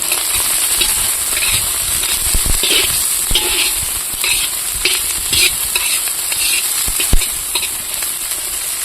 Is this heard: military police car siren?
no